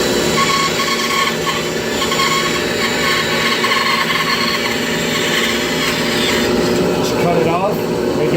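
A saw cuts steadily through the wooden body of a CO2 dragster, a loud, continuous rasping drone held at an even level throughout, with a voice audible over it.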